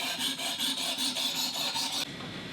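A knife blade, a Glock knife on a Worksharp Professional Precision Adjust Elite, is sharpened on a 400 grit stone, a close, continuous rhythmic scraping of quick strokes that eases to a softer hiss at the end.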